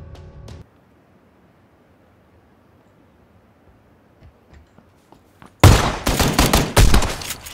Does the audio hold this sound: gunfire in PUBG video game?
yes